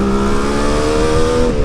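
A Suzuki GT550 two-stroke triple motorcycle, running with a suspected fault, accelerates loudly and close by, its engine note rising and holding steady.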